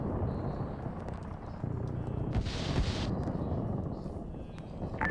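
Distant heavy cannon fire from an AC-130 gunship in an Arma military game, a Fallujah scenario, booms as dull thumps over a constant rumbling engine and wind drone, with one brighter burst in the middle.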